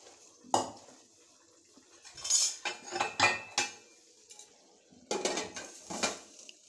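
Pots and metal utensils clank and scrape while someone hunts for a pressure cooker lid during mutton cooking, with sharp, close knocks and rattles coming in scattered bursts.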